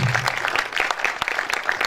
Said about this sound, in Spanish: Vamos a darle la bienvenida a Adriana con un fuerte aplauso